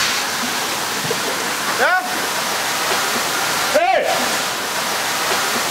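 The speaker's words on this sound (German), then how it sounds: "Mit einem Druck von 20 Bar schießt das Wasser aus den Düsen der Räumer." Water jets roar steadily from dredger nozzles at 20 bar pressure, a loud, dense hiss that runs the whole time. Two short shouted calls rise briefly above it.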